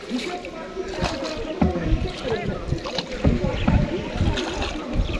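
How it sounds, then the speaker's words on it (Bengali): A boat is rowed on the Ichamati river during the monsoon, with steady splashing and sloshing water and scattered oar strokes heard up close over a continuous wash of noise. "ভালোই লাগছে নৌকা চালাইতে"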